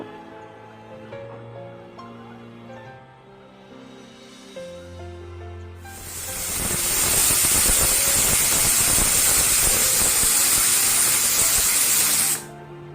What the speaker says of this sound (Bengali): আমি 5টা মতো সিটি দিয়ে নেব।